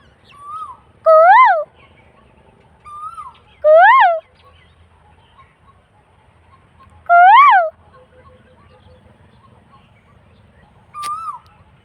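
An Asian koel calls repeatedly, loud rising whistled notes in three or four bursts with quiet gaps between, clear and fairly close.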